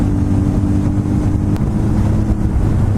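A naked sport motorcycle's engine drones steadily while riding, a loud continuous hum mixed with heavy wind rush across the microphone, with no pauses or voices.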